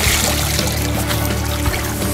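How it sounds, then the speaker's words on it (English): Water pours steadily from a garden hose during a summer bath for Cavalier King Charles Spaniels, a loud continuous splashing rush that fills the whole moment without pause. "Pretty warm water in that hose, huh?"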